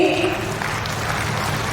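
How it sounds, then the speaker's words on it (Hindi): A large crowd at an outdoor government ceremony in Chaibasa applauds with hands raised, a dense, continuous wash of clapping that holds steady throughout. "लाखों तालियां हो दोनों हाथ ऊपर करके"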